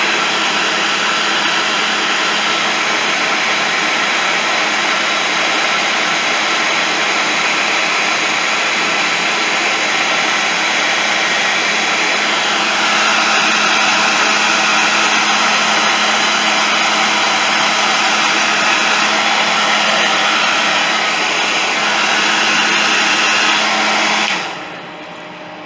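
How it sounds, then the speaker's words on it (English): A heat gun blowing on heat shrink sleeving over headset wiring makes a steady, loud whooshing drone that holds level for most of the time, rises slightly partway through and then cuts off near the end, with no voices. "heat gun."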